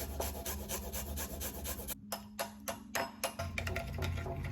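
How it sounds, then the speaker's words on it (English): Garlic clove grated on a microplane, giving a continuous close dry rasping with repeated scraping strokes throughout, a few brief pauses between passes. "I have a clove of garlic here. I'm just gonna grate that in."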